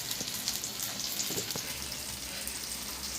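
Fish frying in a pan for a home-cooked lunch, a steady close sizzle and crackle that continues without a break, with a few faint clinks against it.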